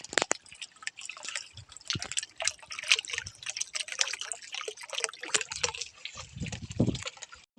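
Borewell water fills a tank and spills over its edge, an irregular patter of drips and trickles splashing close by at low volume.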